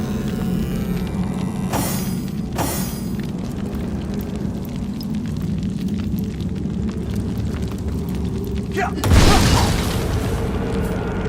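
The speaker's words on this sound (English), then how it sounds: "Better to detonate that mine safely than trip over it myself." A mine detonates in Divinity: Original Sin with a single loud, broad boom about three quarters of the way through, over a steady bed of ambient game sound with a couple of earlier brief sharp noises.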